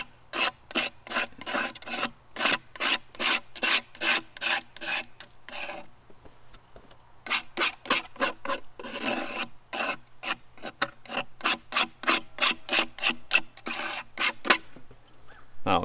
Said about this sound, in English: this is the amount of oil we just scraped